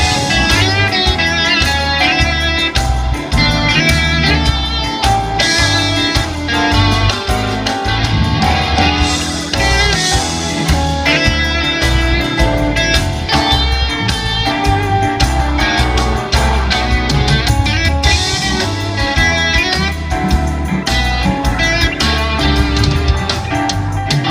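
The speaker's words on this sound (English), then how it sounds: "That's the sound of the Marshall amp." Overdriven Marshall-amp lead guitar tone from a Yamaha Tyros 5 keyboard riffing over a full drum groove, dense and loud throughout with no pauses.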